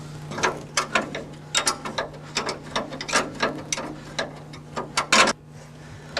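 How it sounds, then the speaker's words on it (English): A bolt being undone from the brake plate of a Rolls-Royce Silver Cloud or Bentley S with a ratchet wrench, producing a series of close, sharp ratcheting clicks in uneven bursts, with no speech. "we're going to remove the last bolt that's holding the plate, which is the top one"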